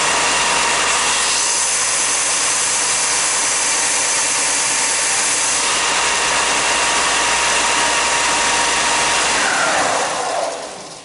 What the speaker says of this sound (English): turn on the sander, and start sanding.